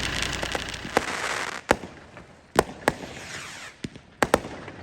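Fireworks set off to celebrate a car starting up, heard as a string of sharp, loud bangs and crackles over a hissing background, with several distinct reports spaced unevenly.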